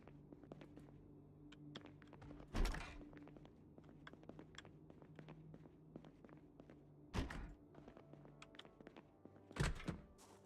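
A door being banged in Project Zomboid, three heavy thuds spaced several seconds apart, heard faintly and at a distance over quiet ticking and scuffing game ambience.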